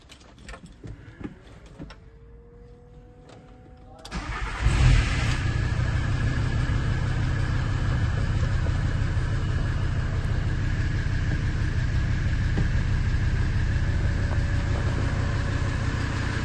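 A VW Transporter 2.5 TDI diesel van cranks over and fires up, settling into a loud, steady rumbling idle that runs on continuously.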